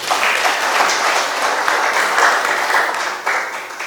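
An audience at a regional conference session in Kampala, Uganda applauds a talk with steady, dense clapping that stays loud throughout and dips slightly near the end.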